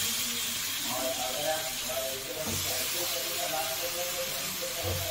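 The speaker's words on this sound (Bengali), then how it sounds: "এবারে আমি চিকেনটা দিয়ে দিচ্ছি, চিকেনের কিমাটা।" Chicken mince tossed into a hot pan of softened tomatoes over a raised flame, giving a steady, loud broadband sizzle that hisses on without a break through the whole stretch.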